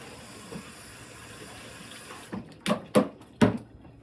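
Elderberries rinsed under a running kitchen tap, a steady close hiss of flowing water filling the sink, then a few louder splashing bursts as the berries are moved under the stream.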